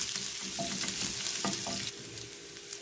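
Chopped green chili and ginger fry in oil with a steady close hiss and crackle, joined by a few soft stirring scrapes, no talking.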